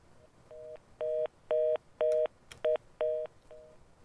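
A telephone keypad dials a call-in line, producing a run of about nine clear DTMF touch-tone beeps in quick, even succession, close and distinct with no talking.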